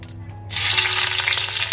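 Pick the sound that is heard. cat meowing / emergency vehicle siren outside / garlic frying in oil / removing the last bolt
garlic frying in oil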